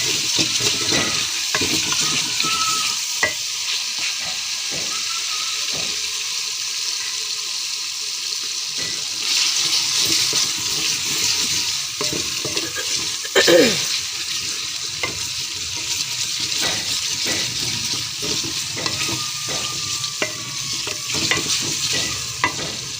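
Masala with garlic sizzles and fries steadily in a pan for dal mash while a spoon scrapes and stirs through it, with no talking over the continuous crackle.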